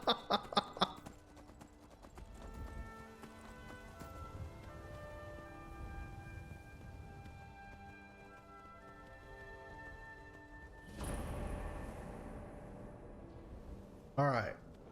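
Horse hooves clip-clop in a steady rhythm amid Skyrim game music and ambient noise, with a few louder thumps at the start and end.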